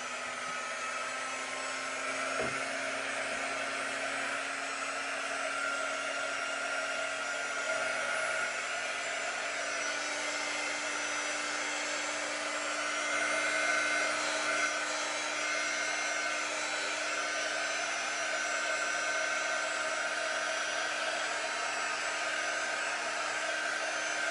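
A hair dryer blows steadily and loudly for the whole stretch, drying freshly applied chalk paint on a DIY furniture piece, its broadband whoosh constant with no talking.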